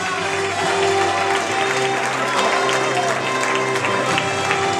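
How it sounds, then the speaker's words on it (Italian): Wedding guests clap for the couple's parents, a sustained crowd applause with a voice and music tones running over the clapping. "un applauso forte forte lo facciamo ai genitori degli sposi"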